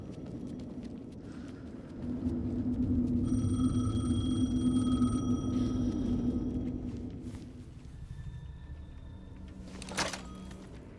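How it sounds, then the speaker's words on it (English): A payphone rings in the video game Alan Wake 2, repeated electronic ring tones at middle distance over a low rumbling ambience, ending with a brief sharp noise. "The payphone was ringing."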